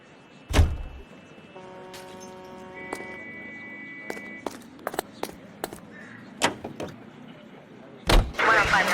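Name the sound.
car starting and driving in video game L.A. Noire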